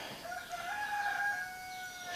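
A rooster crows outdoors on Dartmoor, one sustained, tonal cock-a-doodle-doo lasting about two seconds that sounds moderately distant and steady, heard alone with no talking.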